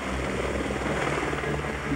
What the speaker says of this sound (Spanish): En horas de la tarde hicieron su aparición dos helicópteros de la Fuerza Aérea Norteamericana.